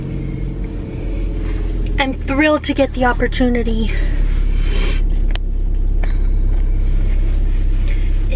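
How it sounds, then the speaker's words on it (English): A car's steady engine rumble and road noise fill the cabin on a drive, continuous and close, while a person talks briefly over it. "Driving my car for the first time in a week"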